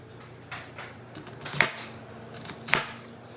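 A knife chops through an onion on a home kitchen cutting board, giving a few sparse, crisp chops with soft handling noise between them.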